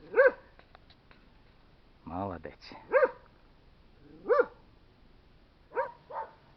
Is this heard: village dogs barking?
yes